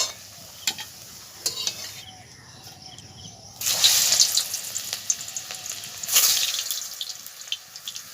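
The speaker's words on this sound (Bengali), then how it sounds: "এইভাবে হালকা হালকা করে ভেজে নেব" Pieces of elephant-ear taro frying in a pan, beginning with quiet utensil taps and clinks, then breaking into a loud, bright crackling sizzle that surges again near the end, close-up with no talk.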